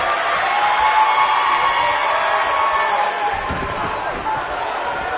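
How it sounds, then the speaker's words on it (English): Arena crowd in the WWE 2K19 wrestling game, a steady roaring cheer that fills the whole clip, with a heavy slam-like thud partway through and commentary voices talking over it. "I don't remember the last time I heard a more passionate crowd than the one we have here tonight"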